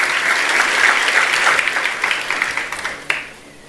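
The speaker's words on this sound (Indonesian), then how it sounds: "Kita beri tepuk tangan untuk kebenaran ini." A church congregation breaks into applause during a worship service, a dense wash of clapping that peaks early, then thins into scattered claps and fades out toward the end.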